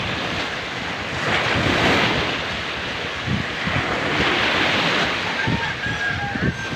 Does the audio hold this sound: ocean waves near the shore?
yes